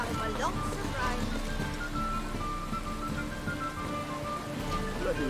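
Steady rain falls in The Witcher video game, a constant hiss with a soft patter over a low rumble. Faint game tones ring over it at a low level.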